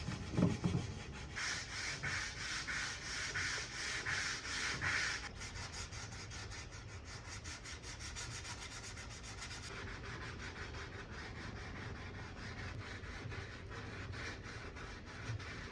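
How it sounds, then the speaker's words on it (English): Hand sanding painted furniture using 220 grit sandpaper on a sanding block, with steady close rhythmic rubbing strokes, a brighter scratchy burst in the first few seconds, then a softer repetitive back-and-forth scrape. "I'm just sanding this back with a 220 grit sandpaper here. I'm using this hand sanding block"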